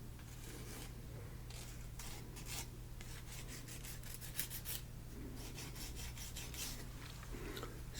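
Steady rasping and rubbing as jagged edges are filed down, soft repeated strokes running continuously at close range under a low constant hum, with no voice.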